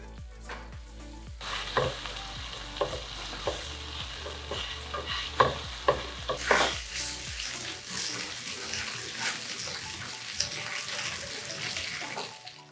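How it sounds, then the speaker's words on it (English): Pieces coated in cornstarch, salt and garlic powder pan-fry in a continuous crackling sizzle, broken by scraping stirs and clanks of utensil on pan, loud and close with no talking. "And then we can pan fry this or bake it."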